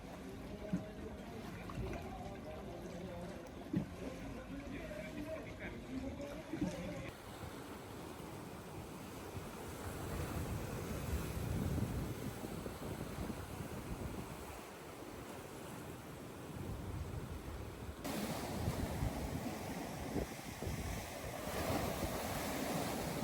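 Small waves lap steadily at the shore of a little cove in Montenegro, a continuous wash of surf with some wind buffeting the microphone throughout.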